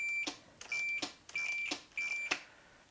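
Four short high-pitched electronic beeps from an Arctic Cat snowmobile safety switch repeat at a steady pace, faint against quiet background with light clicks between them.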